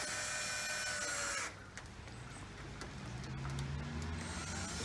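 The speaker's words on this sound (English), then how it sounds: "Make sure your cordless drill battery is completely charged up because you're going to give it an overdrive" A cordless drill spins a buffing pad to work polish into a car headlight, a steady high whine for about a second and a half before dropping to a lower, rougher grinding hum that carries on close by.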